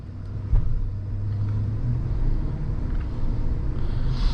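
A 2020 GMC Sierra 1500 SLT pickup truck pulls away, its engine a steady low rumble heard from inside the cab, with a small bump early on and a slight rise in intensity as it gets moving.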